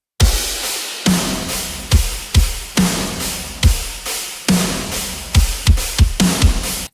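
Programmed MIDI drum kit with a mixed metal-style sound, punchy kicks and sharp snare hits with crashing cymbals, playing a driving, loud pattern with irregular accents throughout, alone with no other instruments.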